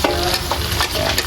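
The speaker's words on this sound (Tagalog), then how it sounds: "Lagay natin yung kamatis, igigisa din natin to eh." Tomatoes sauté with shrimp in a hot pan for ginisang patola, a close, steady sizzle broken by brief scraping stirs of a utensil.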